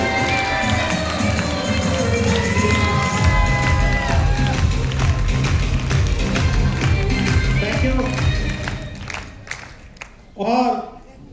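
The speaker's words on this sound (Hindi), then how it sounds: "एक बार जोरदार ताली योगेश जी के नाम पर होनी चाहिए।" Seminar audience in Delhi clapping loudly and continuously, mixed with music and crowd noise, the applause thinning and fading near the end as a voice briefly comes through.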